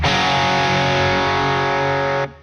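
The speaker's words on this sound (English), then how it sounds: "So you hear how much of the distortion comes from the power section and the phase inverter distorting." A distorted electric guitar chord rings out through a modded Marshall 1959HW Plexi amp turned wide open, a thick, loud, saturated sustain that holds steady and then cuts off abruptly.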